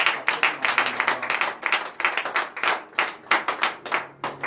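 A church congregation at a morning prayer service in Benin claps loudly in steady, rapid bursts of applause, with a faint voice now and then beneath the hands.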